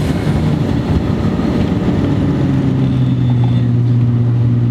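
Steady drone of a turbocharged VW Jetta 2.0 with a subtle 2.5-inch turbo-back exhaust while driving, a constant low engine hum and road noise with a tone that slowly rises in pitch toward the end.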